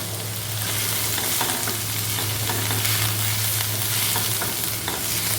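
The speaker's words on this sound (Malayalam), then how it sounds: "ഒന്ന് ഇളക്കി നോക്കാം." Spices and ingredients sizzle steadily in a hot pan while being stirred, a loud continuous frying hiss with faint scraping throughout and no voices.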